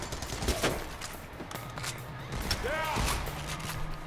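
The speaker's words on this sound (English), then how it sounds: "They're shooting us from behind!" Enemy gunfire in the co-op heist shooter Payday: The Heist, scattered shots and bursts crackling through a busy game mix with players talking over it.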